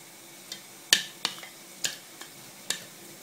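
A spoon clinks and scrapes against a bowl while stirring melting chocolate, giving several sharp, separate taps spread over a few seconds at moderate volume with no talking.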